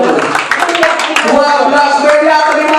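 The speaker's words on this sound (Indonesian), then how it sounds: "Tepuk tangan untuk Yesus." A church congregation claps and applauds during a sermon at a worship service, with dense, sustained clapping filling the space under a preacher's loud, echoing voice.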